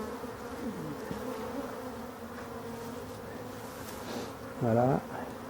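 Honey bees from a drone-laying hive hum continuously close by, with single bees droning past and one louder buzz sweeping near toward the end.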